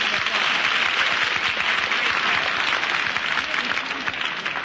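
A 1954 television studio audience applauds a contestant on a comedy game show, loud continuous dense clapping throughout, with no gaps.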